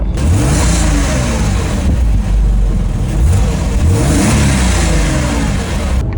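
A Porsche Boxster engine with a standard exhaust runs close by, idling with a low steady rumble and rising in pitch as it briefly revs.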